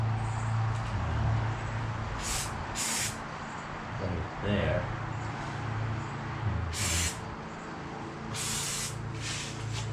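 Spray repeatedly applied to a stitched VW convertible top, several short bright hissing bursts in two clusters over a steady background hum, with someone speaking briefly between them.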